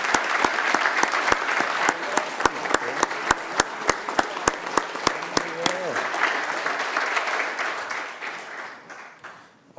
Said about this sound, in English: Please join me in celebrating the Public Works Department with a round of applause